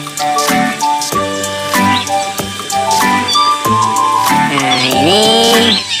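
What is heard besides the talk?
Maine Coon cat meowing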